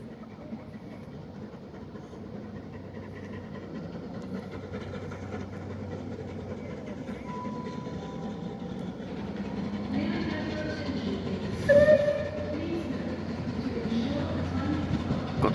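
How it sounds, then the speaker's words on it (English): A Bulleid Pacific steam locomotive whistles in rain in Devon, a brief bright blast near the end rising over a steady rumble of the train and ambient noise, with no voices. "Got to love a bullied whistle."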